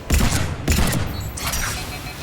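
Shotgun blasts in Mass Effect 3, two loud close booms about half a second apart, then a quieter third burst amid combat noise; a voice talks faintly underneath.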